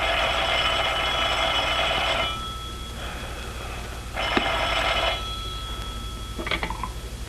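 An old-fashioned telephone bell rings in loud sustained bursts, with two long rings separated by a pause and a shorter clattering ring near the end, with no one speaking.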